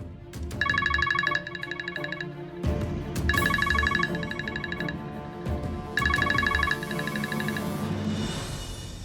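A phone ringtone sounds in three repeated electronic trilling bursts, loud and close, with a steady background tone underneath.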